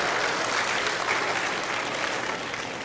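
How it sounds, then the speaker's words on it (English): A school kickoff assembly crowd breaks into dense, sustained applause, a loud wash of many hands clapping at once that eases slightly toward the end, with no voices over it. "Give it up for her, ladies and gentlemen. A round of applause."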